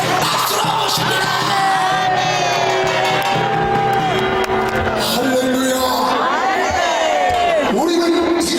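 Large outdoor crowd at a Gwanghwamun patriotic church rally cheers, yells and whoops loudly to welcome a pastor, continuous and dense, with voices carrying over the noise.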